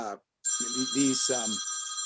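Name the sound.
phone ringing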